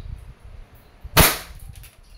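A single sharp WE airsoft Glock 17 Gen 5 pistol shot cracks out loud and close about midway through, with a brief decaying tail over a quiet indoor background.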